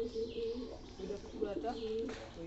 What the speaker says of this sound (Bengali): এই 5টা কবুতর আসছে এখানে।